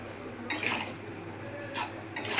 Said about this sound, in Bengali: এবারে একটুখানি জল দিয়ে দিই